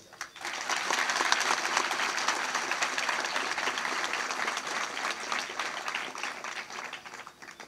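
Sustained applause from a crowd gathered for a lecture on Chhatrapati Shivaji Maharaj hosted by a Ganesh mandal in Vangi, dense steady clapping that fills the whole stretch at even loudness with no talk over it.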